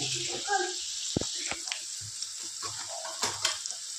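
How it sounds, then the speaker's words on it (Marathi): Ginger-garlic paste fries in a pan for chicken biryani, giving a faint hiss under a person talking, with occasional knocks and scrapes as it is stirred. "आले लसूण पेस्ट अशा प्रकारे टाकून घेतलेला आहे। आता त्याला पूर्णपणे भाजूस्तोवर हलवून घेऊया।"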